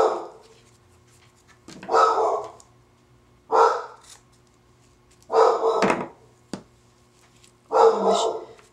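A dog barks in a few separate loud bursts spaced a second or two apart, with quiet gaps between them and no talking.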